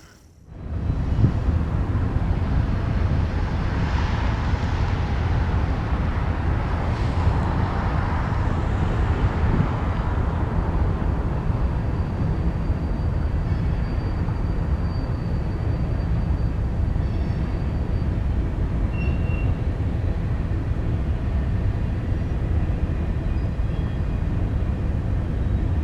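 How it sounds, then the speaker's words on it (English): A mixed freight train rolls past on the main line near Galesburg, Illinois, a loud, steady broadband rumble and roar that swells in quickly and holds for nearly half a minute, with faint squeals near the end. "a couple trains passed on the adjacent main lines"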